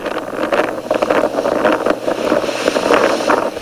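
A Taiwanese fishing vessel's engine runs as the boat moves off at sea, a rough churning rumble mixed with wind buffeting and splashing water that rises and falls in loud gusts.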